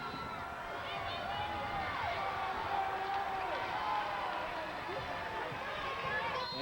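Crowd of Pacific Tigers fans at a 1989 women's college volleyball regional semifinal against Long Beach, a sustained murmuring roar with scattered whistles and shouts, with indistinct voices throughout.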